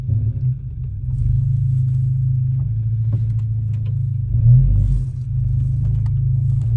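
A Volkswagen 2.0 TSI EA888 Gen 3 petrol engine idling while it warms up, a steady low rumbling hum heard up close and alone, with a brief swell in the middle.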